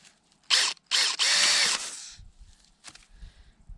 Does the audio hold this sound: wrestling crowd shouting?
no